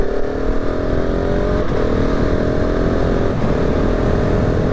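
A 2019 KTM 690 SMC R single-cylinder motorcycle engine revs steadily and loudly up close, holding a rough, throbbing drone with small pitch shifts throughout and no talking.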